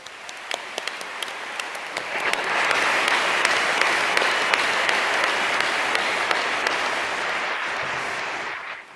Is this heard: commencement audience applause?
yes